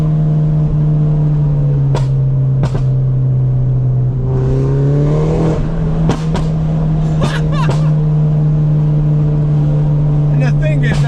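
A heavily modified Mini holds a loud, steady engine drone that lifts in pitch as it revs, while sharp cracks and pops burst out at intervals, some in quick clusters. Voices talk over the engine noise.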